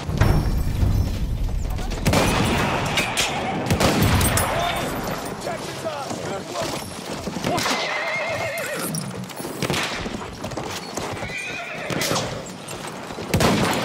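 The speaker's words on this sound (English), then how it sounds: "That's an enemy horse rider!" Horses whinny and gallop on a World War I battlefield in the video game Battlefield 1, loud and continuous amid bursts of gunfire and explosions, with shouted voices over the din.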